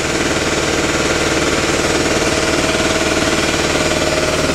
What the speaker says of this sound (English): as you can hear behind me, is a portable air compressor